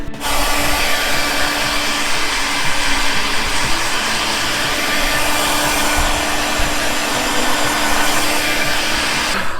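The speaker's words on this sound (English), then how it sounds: "Time to get out the heat gun again." A heat gun blows hot air at a freshly painted bracket, giving a loud, steady roaring whoosh that runs unbroken for the whole stretch with no talk.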